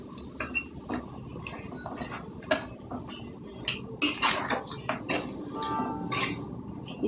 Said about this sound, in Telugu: ఇందులో బాగా కలిసేలాగా కలిపేసుకుందాం